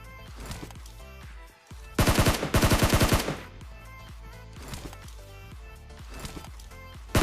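PUBG gunfire in Pochinki: two rapid automatic bursts ring out loud and close, surrounded by shuffling footsteps and scattered clatter.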